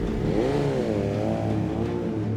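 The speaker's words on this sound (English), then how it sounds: "At last, the engine fires." A Le Mans endurance race car with engine trouble fires up and revs hard, its engine note climbing and dipping in loud, continuous waves close by.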